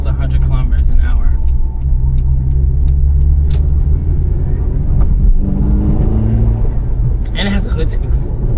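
A Daihatsu Move car driving at near 100 km/h in third gear, a steady loud engine and road rumble running throughout with a voice talking over it.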